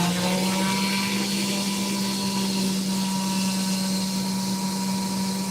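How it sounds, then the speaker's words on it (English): A vacuum cleaner runs in a woodworking shop with a loud, steady whine and drone that holds without a break the whole time. "Had to turn the vacuum on."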